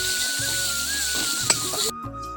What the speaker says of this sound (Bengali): কুচিয়ে রাখা টমেটোগুলো কড়ায় দেওয়ার পরে তাতে সামান্য পরিমাণ নুন ছড়িয়ে দিলাম, দিয়ে এটাকে বেশ কিছুক্ষণ ধরে নাড়তে হবে